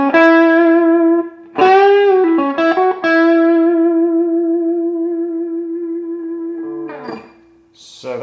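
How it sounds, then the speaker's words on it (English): Distorted electric guitar power chords on the bridge pickup, played through a Monoprice Stage Right 15 amp, ring out with reverb: several chord changes, then a long sustained chord fading away, loud and alone. "I'll just do a couple power chords. All right, let's put a little reverb on there."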